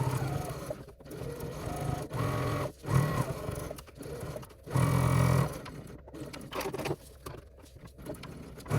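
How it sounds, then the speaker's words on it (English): A sewing machine top stitches around the outside of a lined pouch, running in bursts of rapid mechanical patter separated by short pauses, close and fairly loud. "Take it over to the machine, turn, and then we're going to top stitch around the outside of the pouch."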